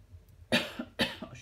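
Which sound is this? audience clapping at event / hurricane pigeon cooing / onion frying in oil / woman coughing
woman coughing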